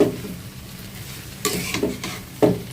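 Fried rice with sauce stirred in a pan, a soft sizzle under several sharp spatula scrapes and knocks against the metal, close and fairly loud.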